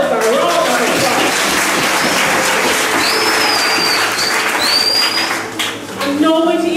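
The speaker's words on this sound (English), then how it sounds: "So give yourselves a round of applause." An audience claps at a graduation ceremony, dense sustained applause filling the room at full volume, with a few whistles cutting through the crowd noise.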